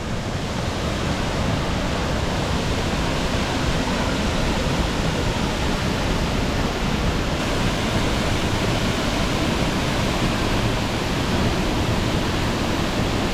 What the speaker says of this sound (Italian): Ed eccoci finalmente alla cascata.